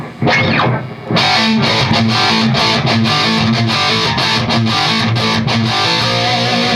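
A heavily distorted electric guitar on the bridge pickup plays loud, gritty rock-metal riffs with a bright, cutting tone, chugging rhythmically and sustaining between chords, with no effects.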